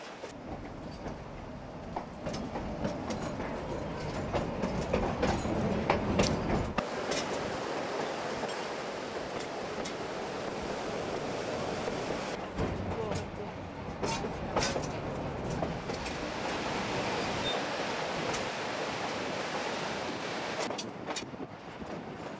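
A steam train rolls along a river gorge in the San Juan Mountains, giving a steady rumbling run with faint rail clatter and wind noise at moderate distance.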